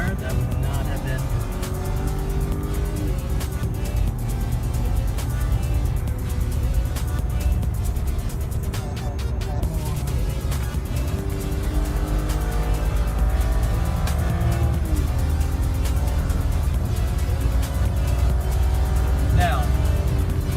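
Busy highway traffic heading toward Delaware, with cars passing and engines humming steadily, heard from inside a moving vehicle with a constant road roar and a person talking over it.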